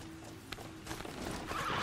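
Horse hooves in Horizon Zero Dawn, a soft clip-clop of steps building over a couple of seconds beneath ambient game sound, fairly close and moderately loud.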